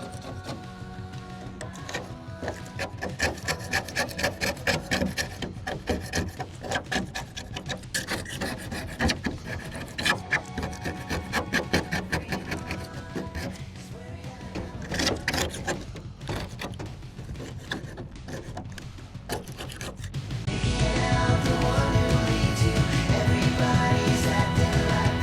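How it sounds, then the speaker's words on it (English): A metal blade scrapes loose material off a RAM truck being restored, making a steady, rasping scrape of repeated strokes close by that grows louder and denser near the end. "That definitely helped, using the blade and taking off all the loose stuff."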